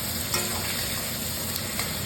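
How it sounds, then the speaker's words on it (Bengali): Onions stir-frying in oil for a goat mutton kosha curry, a steady close sizzle with faint scraping of the spatula through the pan, alone and even throughout. "এবার এটাকে আমি লাল করে ভেজে নিই, যতক্ষণ লাল না হবে এটাকে আমি আস্তে আস্তে করে নেড়ে নেড়ে ভেজে উঠিয়ে নিই"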